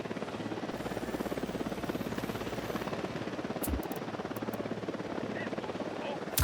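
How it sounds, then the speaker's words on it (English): A military helicopter in a combat video game drones steadily with a dense rotor chop throughout, loud and close, while voices talk over it. "Chopper's approaching."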